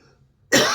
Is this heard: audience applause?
no